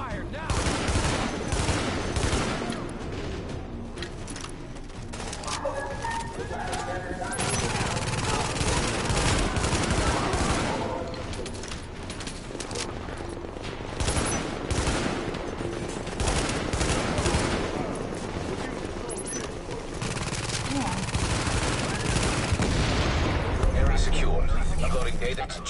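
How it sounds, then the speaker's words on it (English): Heavy sustained gunfire and explosions from a video game firefight, dense and loud throughout, with voices talking over the din. "Suppressing fire now."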